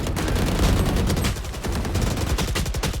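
Rapid gunfire from a competitive Valorant match, dense bursts of automatic shots crackling loudly and continuously, close and sharp with quick repeated cracks toward the end.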